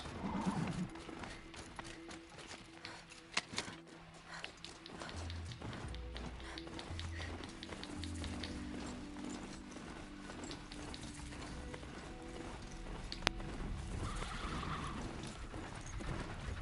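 A horse whinnies and hooves clop amid a busy, cluttered Horizon Zero Dawn game soundscape with mechanical ratcheting noises, moderately loud throughout.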